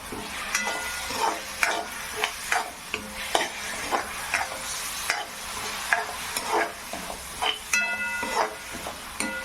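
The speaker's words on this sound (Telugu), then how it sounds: "సో ఇలా అయితే మొత్తం కలిసేలాగా కలుపుకోవాలి" Homemade momo filling with soy sauce being stirred in a pan: repeated scraping strokes at a steady rhythm over a soft background sizzle, close and moderately loud, with no speech.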